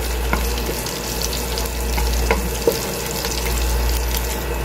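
Garlic sautés in the frying pan left over from frying beef liver for bistek, making a steady, even sizzle with a few light utensil taps; close, with a low hum underneath and no speech.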